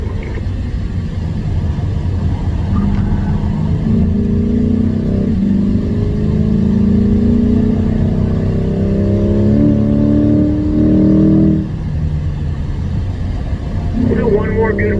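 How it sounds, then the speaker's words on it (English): A C8 Corvette engine pulls hard on a race track, a loud droning note rising in pitch through the gears with a brief shift dip, under an instructor's continuous talk. "Peter, you gotta remember to get up to 4th gear there."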